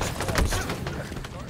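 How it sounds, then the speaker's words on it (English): Rapid grenade blasts and gunfire from a Halo Infinite match crackle in a dense, continuous burst of booms and shots under a player's voice. "Oh, grenades everywhere."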